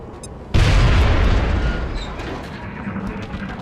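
A grenade goes off in XCOM Enemy Unknown, a sudden heavy boom after a brief quiet lead-in, followed by a long rumbling decay with scattered debris.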